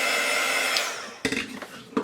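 A hand-held heat tool blows with a steady whooshing hiss while warming nail wraps, then cuts off abruptly partway through, followed by a few faint handling clatters and bumps.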